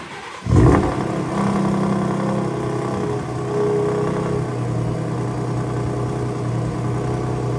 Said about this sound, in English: let's just do a regular cold start in quiet mode